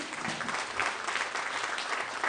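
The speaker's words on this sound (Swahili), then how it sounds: "Pigia Yesu makofi mazuri." A church congregation applauds in a steady, fairly soft patter of many hands clapping at once, with no voices rising above it.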